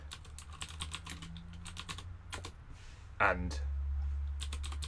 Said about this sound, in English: we're just going to find the right key combination on my keyboard